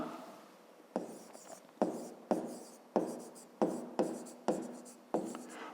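Someone writes out a fifth-grade maths exercise on paper, making sharp, regular strokes with a pen or chalk-like scratch, about ten distinct taps and scrapes close by, with no speech.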